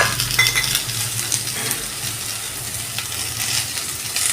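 Okra being stirred as it fries in a pan, a continuous sizzle with a scattering of metallic clinks and scrapes from the spoon, fairly close and loud, with no talking.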